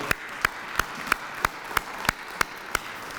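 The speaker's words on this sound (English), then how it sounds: "Let's give yourselves a round of applause." Nine or ten sharp, evenly spaced claps at a steady, unhurried beat, like a lone clapper rather than a full crowd, from an audience at a Westminster High School alumni program, standing out clearly against a quiet room.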